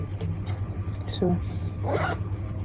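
Zipper on tailored shorts being pulled closed, a couple of short rasping zips close by with light rustling of fabric between them.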